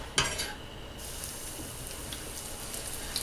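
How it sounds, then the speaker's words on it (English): A hot pan sizzles steadily after a sharp clatter as tuna is laid down to sear, a bright hissing crackle that holds on without any voices. "You should hear a nice sizzle like that as soon as you put it down"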